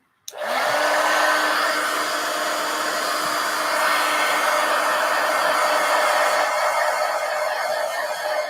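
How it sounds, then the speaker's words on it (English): Heat gun blasting to dry wet paint on a mixed media art piece, a loud, close, steady roaring whoosh that switches on abruptly and holds unbroken to the end, with no talking. "Let me go ahead and hit that with the heat gun a minute."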